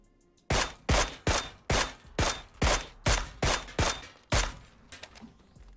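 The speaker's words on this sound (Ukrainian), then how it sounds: "І ось там ще хтось стріляв також, можливо." Gunfire in the PUBG video game: about ten sharp, loud shots in an evenly spaced burst, each with a short decaying tail, followed by a few fainter cracks and no voices.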